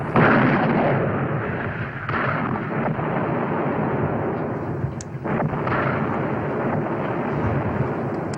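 A Civil War artillery battery firing in a dramatised battle scene, with a heavy booming blast at the start followed by a sustained rumbling roar of distant explosions and smoke-filled din, loud and continuous.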